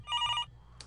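A phone rings in the video game Suits: A Business RPG, a bright electronic trill lasting about half a second, followed by a short fainter chirp, clear and close with no talk.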